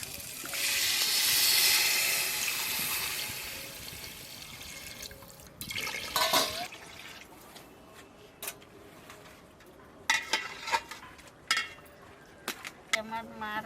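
Water pours loudly into a pot of fried chicken for about four seconds, a rushing splash that fades. Clinks, bumps and a person talking follow close by.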